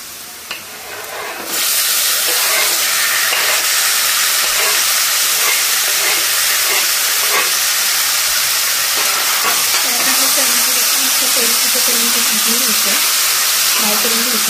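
Prawns frying in a pan, a loud dense hiss and sizzle that rises suddenly after a quieter start and then stays steady and close, with occasional stirring clatter.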